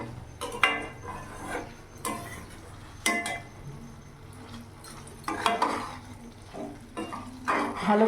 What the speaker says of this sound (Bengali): ভালো করে এইভাবে নাড়াচাড়া করে নেব